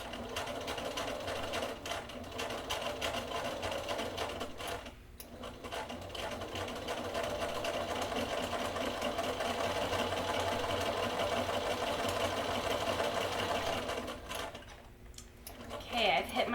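A sewing machine stitches elastic onto fabric and back stitches, running in long steady whirring bursts close by with short pauses between runs, while a person talks over it.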